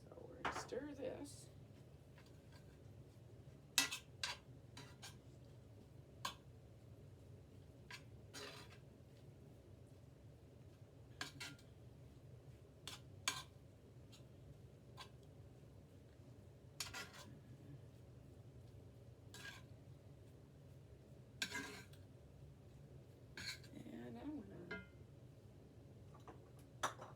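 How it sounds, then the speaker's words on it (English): Spoon stirring mozzarella cheese into stuffed pepper filling, giving faint, scattered clinks and scrapes of utensil against bowl at a quiet level, with a voice talking intermittently. "instead of putting the mozzarella cheese on top, I'm going to stir that in too"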